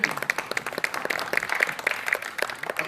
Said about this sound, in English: make a big round of applause